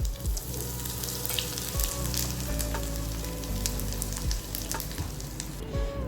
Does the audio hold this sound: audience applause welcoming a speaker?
no